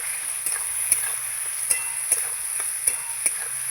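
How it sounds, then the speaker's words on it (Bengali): Tengra fish curry being stirred in a pan after salt and turmeric go in, with a steady faint sizzle under a series of sharp spoon scrapes and taps at irregular intervals, no voices. "আবার ভালো করে নেড়ে চেড়ে নেব"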